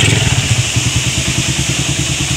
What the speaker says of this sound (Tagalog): Ayos na ang motor ng tropa.